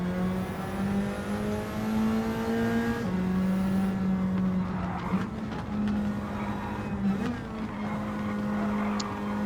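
Race car engines in the Gran Turismo 7 video game as cars battle side by side on track, a steady droning whine with pitch shifts during gear changes and some scraping and bumping sounds, no talk.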